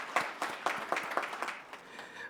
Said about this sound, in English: Maybe we should give CISNA a round of applause.